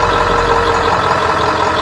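A truck engine runs steadily while charging a Bluetti AC200 power station, a loud, close, continuous idling drone with no talk.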